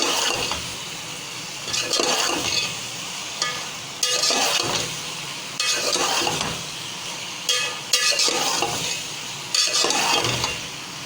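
Penne pasta is stirred in a pan, with repeated scraping, wet swishing strokes about every two seconds, close and moderately loud with no talking.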